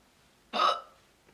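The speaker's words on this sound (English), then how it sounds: "What happens if you hiccup while you're holding your breath?" One close hiccup from a person holding their breath, a short, sharp burst that fades quickly in an otherwise quiet room.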